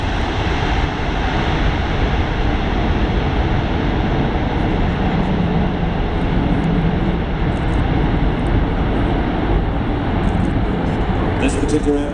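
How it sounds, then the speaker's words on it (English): An Airbus A400M military airlifter flying an agile display at the Farnborough Air Show 2014, heard as a loud, continuous, broadband engine and propeller roar that fills the whole stretch steadily, with crowd and outdoor noise mixed in. "you're going to see a very agile flight display by the A400M"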